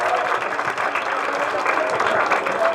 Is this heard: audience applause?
yes